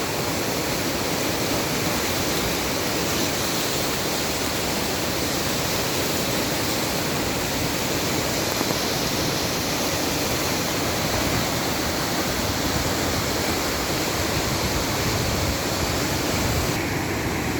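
The Kali river flowing at its confluence with the Myagdi river, a dense, steady rushing roar of water that holds constant and loud throughout, with no voices.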